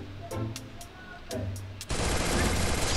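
Gunfire in the Free Fire video game, with a few short, sharp shots followed by a sustained loud burst of rapid automatic fire that ends the moment.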